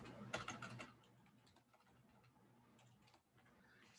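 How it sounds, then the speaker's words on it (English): Computer keyboard typing in a short burst of quick, close keystrokes that stops after about a second, leaving quiet room tone and a few faint scattered clicks. "I'm just typing."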